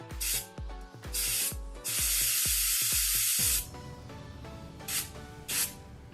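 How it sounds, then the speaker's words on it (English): An air gun blows compressed air to clean an Xbox One disc drive that has trouble reading discs. It makes several short, loud hissing bursts, one long sustained blast, and two more quick puffs near the end. "I'm going to be using an air gun for this."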